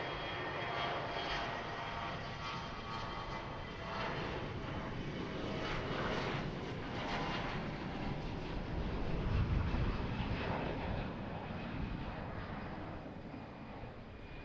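A light aircraft flying the traffic pattern at Harrisburg airport, its engine a steady distant drone that swells slightly and fades, heard alone throughout.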